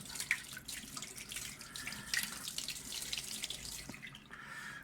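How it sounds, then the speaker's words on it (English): Water from a tap runs steadily to rinse a SkyWatcher 300P 12-inch Flextube Dobsonian telescope mirror, splashing and trickling close by with no voices. "I will turn the mirror a little bit just to make sure that all corners of it is receiving the water"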